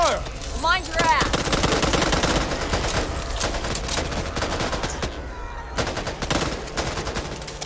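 Gunfire in Back 4 Blood, loud rapid bursts of automatic weapons firing near and sustained, with sharp repeated shots and some short pauses between volleys.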